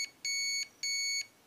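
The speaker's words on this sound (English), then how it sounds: "Five beeps, so it's accepted my change in programming." Two sustained electronic programming beeps from a HobbyWing Platinum PRO 40A ESC, each about a third of a second, clear and close with a short gap between, over near silence.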